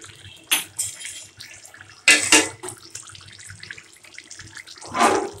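Boiled meat and its broth for haleem poured from a pot into other ingredients, a few loud splashing bursts of liquid with quieter dribbling between them, nearby, no talk.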